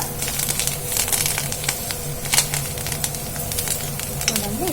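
Thinly sliced betel leaves hit hot oil in a pan, giving a steady close sizzle and crackle with scattered sharp pops and light stirring sounds, no voices.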